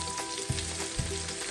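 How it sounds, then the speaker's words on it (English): Onion frying in hot oil in a pan for a creamy seafood pasta, a steady close sizzle with two soft stirring thumps, no talk. "Oil, add your onion, light onion first"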